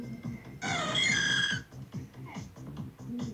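Espeon's bright, warbling electronic cry from Pokémon Go sounds once, short and shrill, over a faint rhythmic background beat.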